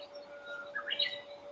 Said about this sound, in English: I can make bird sounds and shit.